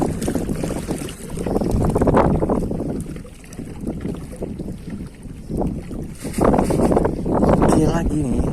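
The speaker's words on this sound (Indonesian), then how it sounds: "ada angin" Steady wind buffets the microphone at a wave-swept, windy seaside spot for mullet fishing, a broad rumbling roar that swells and eases under intermittent talk.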